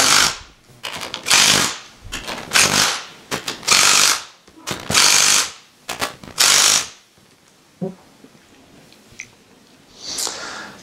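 Ratchet wrench tightening bolts on an Agri-Inject Series G pump, heard as repeated bursts of rapid clicking strokes, close and loud, separated by short pauses, with a few lighter clicks near the end.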